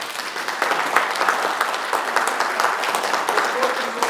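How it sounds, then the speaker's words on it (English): Audience applause for the speaker Randy at the close of a lecture, a dense, steady wash of many hands clapping throughout, fairly loud and sustained without letup. "Let's give Randy a big round of applause."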